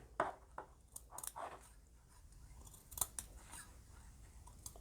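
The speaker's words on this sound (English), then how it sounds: "Do not cut through the stitching, just cut to it." Scissors snip through the sewn seam allowance of a fabric Christmas stocking, a few quiet, separate cuts spaced unevenly across a calm room with no talking.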